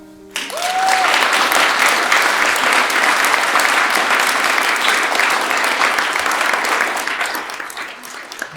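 Wedding guests at a ceremony in Auburn Hills, Michigan break into loud, steady applause that starts abruptly and holds as a dense, even wash of clapping for about eight seconds before easing slightly.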